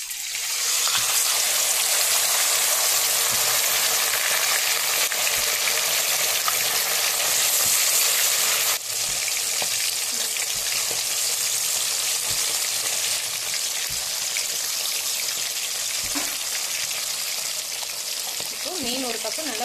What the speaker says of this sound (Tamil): நம்ம ஒவ்வொரு மீனை போட்டு பொரிச்சு எடுத்துடலாம்